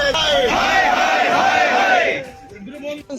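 Villagers from Shekhpura in Hansi chanting protest slogans together at a water works site, a loud sustained crowd chant with rising and falling shouted voices that fades out near the end.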